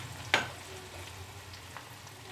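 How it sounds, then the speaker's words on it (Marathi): Chopped onion sizzles softly in a hot pan, a steady low frying hiss with one sharp clink of a stirring utensil early on, close and fairly quiet with no talk. "कांदा चांगला सोनेरी रंगावर आपल्याला चांगला हलकासा परतून घ्यायचा आहे।"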